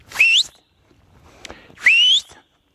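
Two loud, rising whistle calls about a second and a half apart call pigs on a farm, with a faint knock and quiet outdoor space between them.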